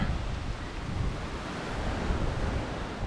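Steady surf rolls onto the beach at the Secrets Aura Cozumel resort, a continuous broad wash of waves mixed with wind buffeting the microphone, with no voices.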